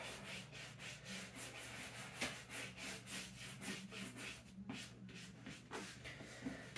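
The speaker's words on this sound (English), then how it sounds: "Now that it's had time to sit, just scrub, scrub, scrub." A brush scrubs a leather work boot with conditioner in quick, rhythmic back-and-forth strokes, close and soft with a faint low hum underneath.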